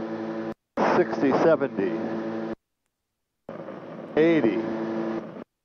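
Engines of a Cessna Golden Eagle roaring steadily during a takeoff roll, a loud droning hum with brief gaps, while a pilot calls out numbers over it.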